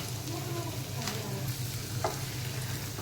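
Onion, ginger, garlic and chilli roasting in a pan over a low flame for a methi matar malai base, a quiet continuous crackle with occasional scrapes and a low hum beneath.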